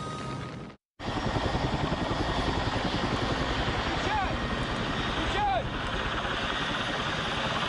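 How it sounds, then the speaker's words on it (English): A fleet of helicopters flying over the burning Chernobyl reactor makes a loud, steady rotor drone with continuous thudding blades. The drone cuts out briefly near the start, then resumes without a break, and faint chirping tones rise above it. "his fleet of 80 helicopters are sent from Moscow to fight the blaze and put the fire out"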